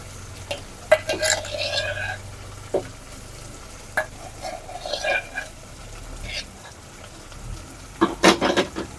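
Lentils with tempering frying in a pan for spinach dal: intermittent sharp scrapes and clinks of a spoon over a quiet background sizzle, with a voice briefly present.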